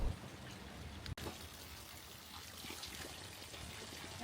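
Water trickles steadily and softly into a stone hand-washing basin at a Shinto shrine in Kinosaki Onsen, a quiet continuous dribble with one brief dropout.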